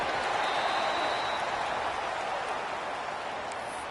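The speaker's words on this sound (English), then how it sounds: "this crowd is buzzing after that last score" Stadium crowd at a football game buzzing after a score, blocked extra point just before, heard as a steady, loud, broadband roar of many voices that holds evenly throughout.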